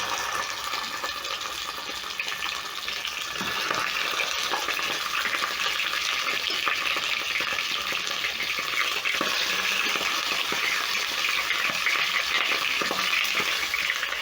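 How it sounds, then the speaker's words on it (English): Rabbit pieces searing in hot oil in a pan, a steady dense sizzle that holds at an even, close level throughout with no talking. "So I'm going to be searing my rabbit in 2 batches"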